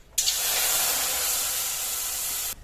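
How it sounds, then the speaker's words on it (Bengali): Coconut milk poured into a hot wok sets off a sudden loud sizzling hiss that holds steady for over two seconds and then cuts off abruptly. "এবার এই নারকেলের দুধ কড়াই দিয়ে দেবো"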